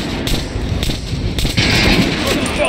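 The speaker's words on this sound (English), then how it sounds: "Try out the rest of the weapons you chose. Try shooting with the center of the regular dummy chest." Gunfire in Metro Last Light Redux aimed at training dummies on a firing range, a run of sharp shots spread across the clip, loud and close over a constant noisy game background.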